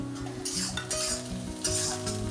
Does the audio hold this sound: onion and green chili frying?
yes